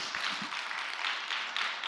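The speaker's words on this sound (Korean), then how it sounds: "하나님께 영광의 박수, 감사의 박수." Church congregation clapping together after a sermon, a steady dense wash of hands sustained through the whole moment at a moderate distance, with no voices standing out.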